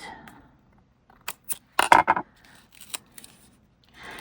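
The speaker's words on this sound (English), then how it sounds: "And then I'll go ahead and cut." Scissors cutting a strip of paper, a few quick close snips and crisp slicing sounds clustered in the middle, soft and intermittent against a quiet room.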